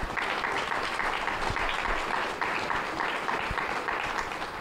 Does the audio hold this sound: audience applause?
yes